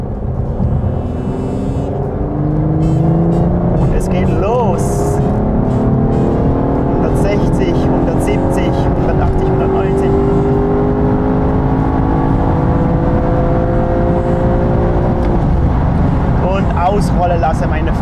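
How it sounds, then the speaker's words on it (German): An Aston Martin DBS Superleggera accelerates hard in fourth gear on the autobahn, its loud engine note climbing steadily in pitch from inside the car over a constant road roar, with a voice talking over it. "wir fahren jetzt hier raus auf die Autobahn und dann machen wir eine Messung im vierten Gang"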